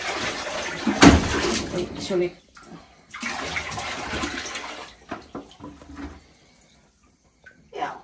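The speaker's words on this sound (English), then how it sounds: "We have water there already and we have to mix with the warm." Water running for a shower during a countryside vacation stay, a steady gushing stream that stops and starts in a few bursts, with a person speaking briefly over it.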